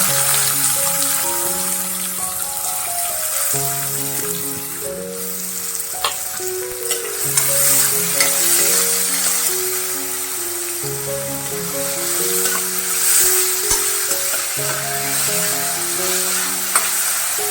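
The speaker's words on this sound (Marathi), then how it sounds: "कांदा लाल करून घ्यायचा आहे कांदा घालतो" Chopped onion frying in a pan sizzles steadily and close, with intermittent scrapes and taps of a stirring spoon, while soft background music plays underneath.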